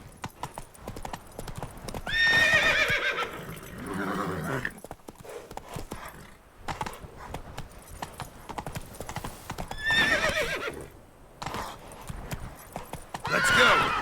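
Roach, a horse in The Witcher 3, gallops with a fast, continuous clip-clop of hooves, close and loud, with several sharp neighs and whinnies breaking through at intervals and a voice speaking briefly.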